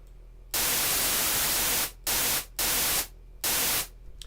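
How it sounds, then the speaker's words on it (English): Synthesizer white noise switched on and off in four loud, flat hissing bursts of varying length, with near-silent gaps between them. "We're going to turn in white noise."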